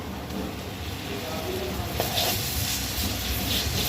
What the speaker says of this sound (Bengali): রসুনটা দিয়ে এবার পেঁয়াজের সাথে খুব ভালোভাবে মিশিয়ে আগে ভেজে কষিয়ে নেবে